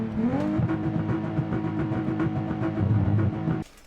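A JDM sports car in the BeamNG driving game sits stationary while its engine revs, a loud close roar climbing and holding with a few throttle blips before cutting off sharply near the end.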